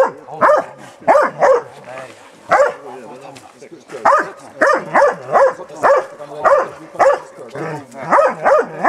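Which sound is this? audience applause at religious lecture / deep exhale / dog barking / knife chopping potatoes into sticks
dog barking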